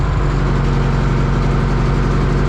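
Concrete mixer engine running steadily at low revs, a loud, close, continuous drone with an even low rumble and no talking.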